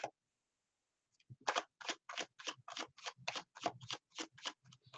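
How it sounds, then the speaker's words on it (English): Tarot cards riffle-shuffled by hand during a live reading, giving a run of quick crisp papery bursts in a steady rhythm after a short silence, close and fairly soft. "Cards are shuffled."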